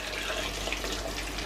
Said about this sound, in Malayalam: നല്ല തിളച്ച വെള്ളം ഒഴിച്ച് കൊടുക്കാം.